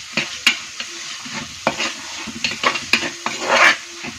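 Onions sautéing in a pan for a Malayali fish curry, close sizzling broken by repeated scraping stirs of a spoon against the pan.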